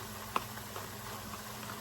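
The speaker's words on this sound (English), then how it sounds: "So I am going to add our pepper sauce so it can start cooking." Homemade pepper sauce made from scratch with onion, previously frozen, begins to cook in a pan, giving a low steady sizzle and bubble with one small pop near the start.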